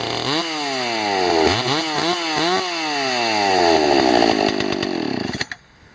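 A Pepe 116si chainsaw is restarted and revs up hard, with several quick throttle blips before a long, loud, steady high-pitched run that cuts off abruptly at the end.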